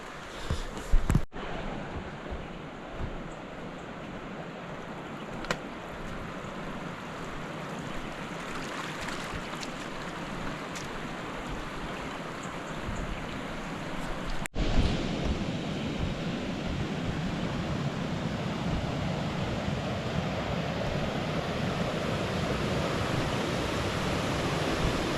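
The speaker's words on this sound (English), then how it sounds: "So it's obvious the speed of the water has picked up" A fast-flowing flooding river rushes in a steady broadband roar, loud and continuous, swelling a little in the second half, with no voices.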